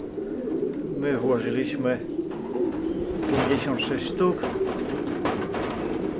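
Racing pigeons coo softly at a loft, low, repeated calls carrying steadily beneath someone talking nearby.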